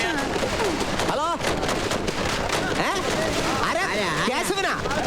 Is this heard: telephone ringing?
no